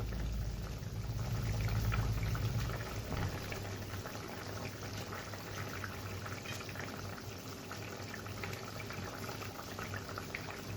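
Ghoina fish curry broth with added water boils in a pot, a steady bubbling and hissing with a louder, fuller rumble at first before it settles into a continuous quieter simmer.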